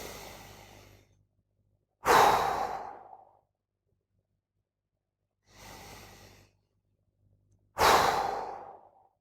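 Two deep meditation breaths are heard close and alone, each a slow drawn inhale followed by a longer, heavier exhale that falls away into silence.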